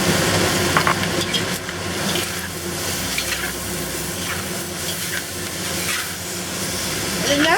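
Shanghai noodles with pork stir-fried in a wok, a steady sizzle and hiss with scraping and tossing of the spatula, close and continuous throughout.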